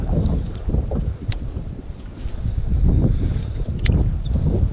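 Strong storm wind buffets the microphone on a fishing boat, a loud, gusting rumble that surges and eases throughout, with faint water sounds beneath and no talking.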